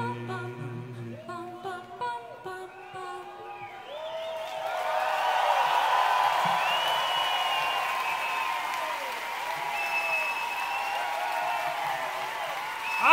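Live concert crowd in Berlin breaking into applause and cheering as a song ends, with a sustained, fairly loud roar of clapping after the music fades and a few whistles over it.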